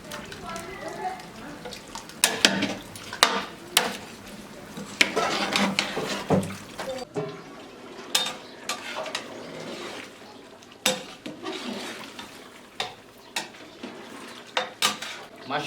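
Chicken korma being cooked in a large pot with yogurt added, with clattering metal utensil strikes and scraping against the pot in irregular bursts, alongside watery sloshing and someone speaking.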